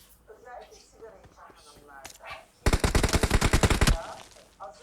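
A rapid burst of automatic gunfire in a video game rattles loudly for over a second, with someone talking before and after it.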